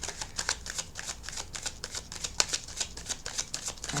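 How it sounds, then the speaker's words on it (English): Playing cards riffle-shuffled close up, a rapid, even run of crisp paper flicks with no talking. "And one more rifle and shuffle."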